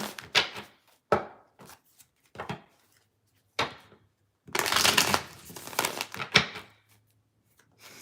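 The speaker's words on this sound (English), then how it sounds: "Let me shuffle" Playing cards being shuffled during a tarot-style reading, a series of quick riffling and snapping bursts separated by short pauses, with a longer dense riffle near the middle, close and fairly crisp.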